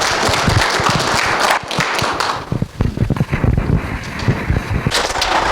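Loud applause from a crowd, dense clapping that thins briefly into scattered claps, then swells again.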